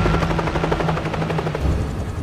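A helicopter in an action film, a dense, steady rotor-and-engine roar with a rapid chopping pulse, loud and continuous with no voices over it.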